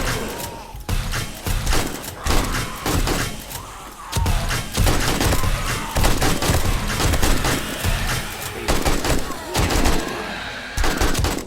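Gunfire in the survival game 7 Days To Die: rapid, dense bursts of shots and impacts hammer almost nonstop, loud and close, with brief lulls and some voices mixed in.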